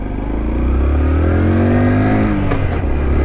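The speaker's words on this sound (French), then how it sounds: "On coupe le gaz, on passe le rapport et on réaccélère." A Honda Dax motorbike revs up again after a gear change, its engine note climbing steadily, loud and close, over continuous low road rumble.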